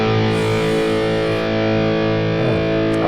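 A heavily distorted electric guitar played through a Fractal FM3 floor unit rings out as a thick, saturated sustained chord, loud and close, with a few picked changes toward the end.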